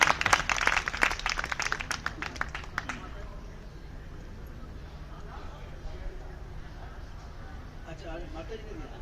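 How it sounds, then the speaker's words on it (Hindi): A crowd at a special yajna marking Maharshi Dayanand Saraswati's 200th birth anniversary claps to welcome a guest, a brisk burst of applause for about three seconds that then fades into quiet room ambience. "एक बार तालियों द्वारा अभिनंदन"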